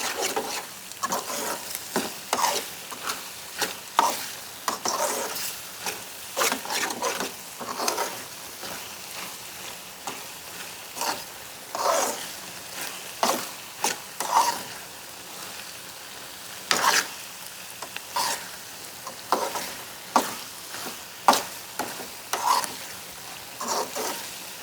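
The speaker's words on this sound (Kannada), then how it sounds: "ಸೊ ಅದನ್ನು ನೀಟಾಗಿ ಈ ಥರ ಫ್ರೈ ಮಾಡಿಕೊಂಡು ಸ್ವಲ್ಪ ಹೊತ್ತು ಬೇಯಕ್ಕೆ ಬಿಡೋಣ" Masala pasta fries in a pan with repeated scraping stirs, a rhythmic series of close utensil scrapes over a faint, soft sizzle, with no talking.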